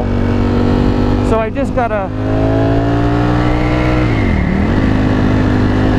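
A 2021 Ducati Streetfighter V4 motorcycle's engine runs loud and close throughout, with a quick burst of revs early on and a brief dip in pitch later, while someone speaks briefly over it.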